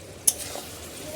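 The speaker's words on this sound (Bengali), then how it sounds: "ভালো করে নাড়িয়ে দিতে হবে।" Meat being stirred in a cooking pan, a brief utensil scrape with a sharp clink followed by a soft, low sizzle.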